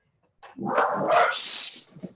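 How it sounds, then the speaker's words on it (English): Small dog barking and yipping excitedly indoors at a drag queen bingo event, a burst of close, fairly loud barks lasting over a second, then a brief final yip. "Oh, somebody's dog is very happy about us."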